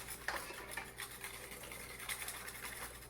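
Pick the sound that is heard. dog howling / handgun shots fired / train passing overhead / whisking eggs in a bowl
whisking eggs in a bowl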